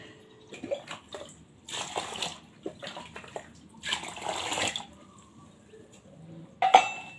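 Hands being washed under water, with intermittent splashing and trickling in several short bursts separated by quiet pauses, fairly close.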